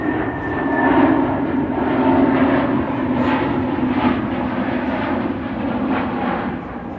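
An Airbus A320neo jet bound for Malta at Amsterdam Schiphol airport, a loud, steady engine roar with a low rumble and a slowly wavering whine that holds throughout.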